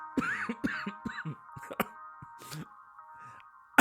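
Several sharp coughs and throat-clearing bursts close to the microphone, spaced irregularly, with a steady faint tone humming underneath.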